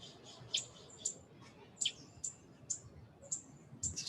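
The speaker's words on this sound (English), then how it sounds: "serenading of birds" Birds singing outdoors in a calm natural setting, with short bright chirps repeating about every half second, faint and fairly distant over a soft background hush.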